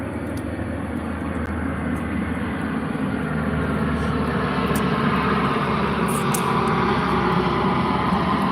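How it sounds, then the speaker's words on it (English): Continuous low engine roar of a United States Air Force military jet aircraft passing overhead, steady and loud throughout with no speech. "That noise you hear compliments the United States Air Force."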